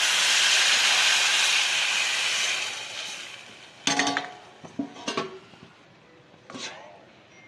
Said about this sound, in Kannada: ಇವಾಗ ಈ ಹುಣಸೆಹಣ್ಣು ನೀರನ್ನು ಹಾಕೋಣ.